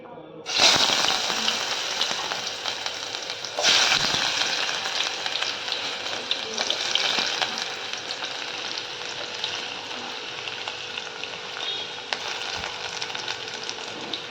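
Onion fries in hot oil and ghee in a pan, sending up a loud, continuous crackling sizzle close by, with a few sharper stirring knocks near the start.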